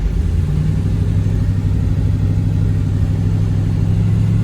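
A truck with a newly installed transmission drives off along a slick road, its engine a loud, close, steady low rumble that holds throughout with a slight rise in pitch and no voices.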